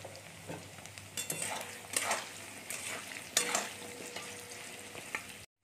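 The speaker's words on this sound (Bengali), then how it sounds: "চলুন আমরা লাল করে আলুটাকে ভেজে নিই" Potatoes frying in a pan with salt and turmeric, a steady sizzle broken by scraping stirs and clinks of a spatula against the metal, close and fairly quiet, with no one talking.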